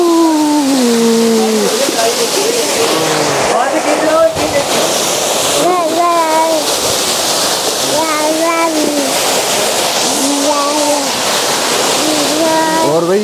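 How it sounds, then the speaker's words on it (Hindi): A waterfall near Kasol and Manali in Kullu rushes as a continuous broad wash of water. Someone talks over it throughout, with rising and falling intonation. "ये जो ना वाटरफॉल है, जैसा कि आप देख सकते हो"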